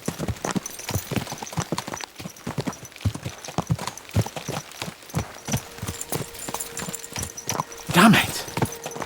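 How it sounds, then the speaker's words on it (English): Horses' hooves from the video game Kingdom Come: Deliverance 2, a steady rapid clip-clop of several riders moving fast, close and continuous, with a brief louder burst near the end. "Let's really spur these horses on, eh?"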